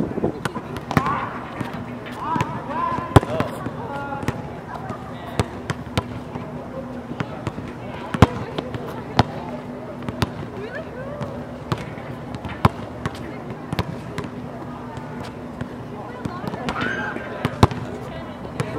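A basketball bounces on a court during a casual game, its sharp slaps repeating irregularly through the stretch while people talk and move around nearby.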